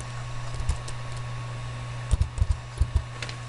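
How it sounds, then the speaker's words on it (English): Someone types on a computer keyboard: a handful of sharp key clicks come close together near the end, over a steady low electrical hum. "So type 1 foot on your keyboard and press enter."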